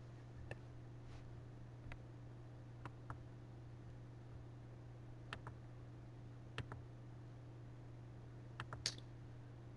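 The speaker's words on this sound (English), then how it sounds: "Would you type George Washington in for me, Miss Martinez?" Sparse keyboard clicks of someone typing a name into a search box, about eight separate taps spread irregularly over ten seconds, faint and close against a steady electrical hum.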